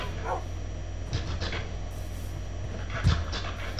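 A video game dog gives a few short, scattered barks and yips over a constant low hum, with no one talking.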